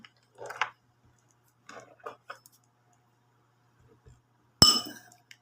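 Salt is added to a glass of water: soft granular pattering and light ticks in a few bursts, then one sharp, ringing clink against the glass, all close and otherwise quiet.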